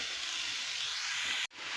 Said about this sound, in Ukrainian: На розігріту сковорідку без нічого я висипаю наш перемелений у блендері нашу цибульку.